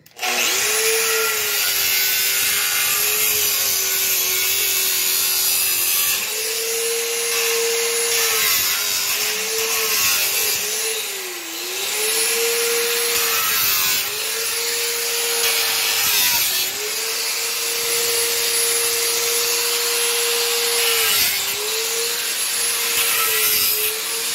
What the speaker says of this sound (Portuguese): Aqui eu vou usar uma lixadeira para cortar.